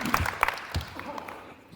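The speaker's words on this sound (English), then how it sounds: "Give them a round of applause, guys." Players at a basketball shooting workshop get scattered claps from those watching, a few loud claps at first that thin out and fade under quieter talk in the gym.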